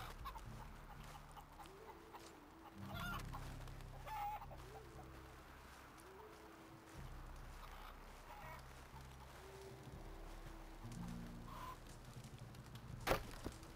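Chickens cluck in Red Dead Redemption 2, with short, repeated low calls stepping up and down over a steady outdoor background, moderately near, and a sharp click near the end.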